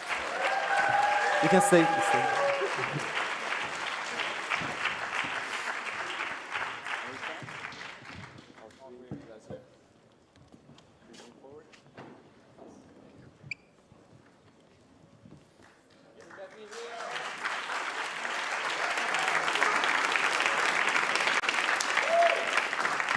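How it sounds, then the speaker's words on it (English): Audience applause for award winners on stage at the RAISE Summit, loud at the start, dropping to quieter murmurs and brief talk midway, then swelling again into sustained clapping. "Please, a round of applause for them."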